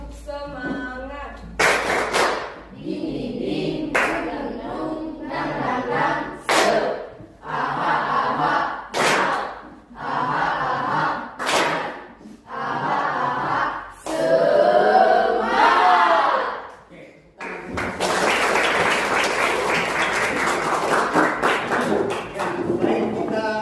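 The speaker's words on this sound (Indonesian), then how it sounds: "Tepuk semangat." A classroom of students does a rhythmic spirit clap routine, sharp, loud bursts of unison claps in a patterned beat, broken by short pauses and shouted group chants, ending in a sustained cheering clatter.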